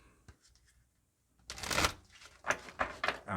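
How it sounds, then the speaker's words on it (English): Tarot-style fairy oracle cards are shuffled close up in a few quick riffling bursts after a quiet pause, each burst a crisp rapid flutter. "let me shuffle your fairy card for you"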